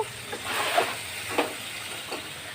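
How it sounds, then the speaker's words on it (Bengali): Hot oil sizzling steadily as chickpeas fry in a home kitchen pan, a continuous hiss broken by a few sharper spitting bursts. "আউ তেল ছিটবে, ভয় লাগে"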